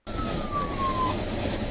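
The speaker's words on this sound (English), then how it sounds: "So he had his sirens on" A police car siren, a steady high wailing tone that slowly drops in pitch over a continuous rumble of road and engine noise, heard fairly close and without talk.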